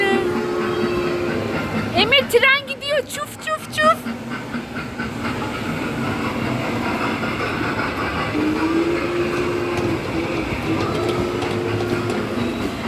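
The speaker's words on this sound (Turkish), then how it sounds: "Ne güzel bir tren bu böyle." Steady rumbling of a small amusement park train rolling along its track, with a brief squealing whistle-like tone and voices talking over the running noise.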